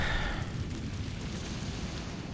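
An Incendio fire spell cast in Hogwarts Legacy on PS5 gives a deep, rumbling burst of flame that starts loud and settles into a sustained roar, with no voices.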